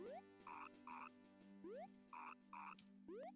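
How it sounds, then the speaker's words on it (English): Frogs croaking from Majora's Mask, a faint, regular pattern of paired throaty croaks alternating with rising chirps over a steady low hum. "Those are the frogs from Majora's Mask."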